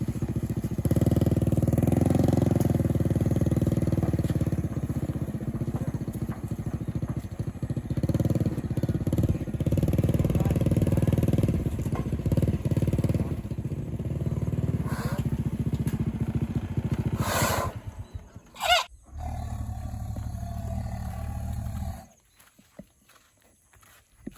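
A Thai saleng, a motorcycle with a sidecar, drives steadily with a close engine drone and rattling, then passes into a brief louder burst before cutting off near the end.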